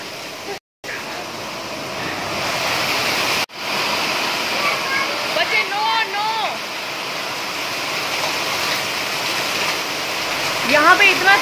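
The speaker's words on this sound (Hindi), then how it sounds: "यहाँ पे इतना तेज पानी गिरता है ना नीचे, मुझे लग रहा है ये फर्श टूट जाएगा" Heavy rain pours down hard outside a home, a dense continuous rush of falling water close by, with someone talking over it intermittently.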